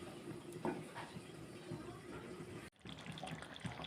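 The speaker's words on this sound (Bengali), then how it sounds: "জল দিয়ে দেবো" Water pours from close by into a pot of chicken kosha curry, a continuous splashing trickle that cuts off abruptly near the end before quieter kitchen sounds resume.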